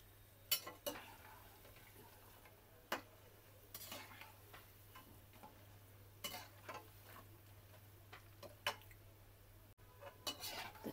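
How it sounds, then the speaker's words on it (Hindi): Crisp clinks and scrapes of a slotted spoon against a pan lift fried namak pare out of hot ghee. Occasional metallic taps sound over a low steady hum, with no talk. "अब मैं इसे निकाल लेती हूँ कचड़ी से।"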